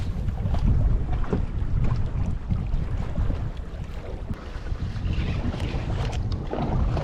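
A small skiff runs across choppy open water, with a steady low rumble of hull and engine mixed with wind buffeting and slapping water throughout, close and fairly loud with no voices.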